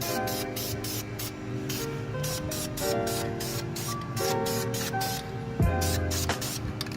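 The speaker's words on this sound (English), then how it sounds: "you want to give it another spray." An aerosol spray paint can sprays in a long continuous hiss while coating brake calipers, overlaid on a droning background hum that shifts slightly partway through.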